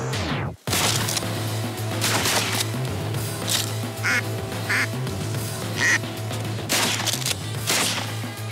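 Ducks quacking in the early morning during a hunt, a steady chorus of calls and splashy bursts over continuous outdoor noise, with a sharp sudden break near the start that suggests a gunshot.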